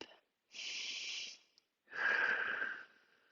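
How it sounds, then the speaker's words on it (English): Two slow, deep breaths during a yoga pose, each a long airy rush with a short pause between, close and fairly soft with no talking. "Breathe deep."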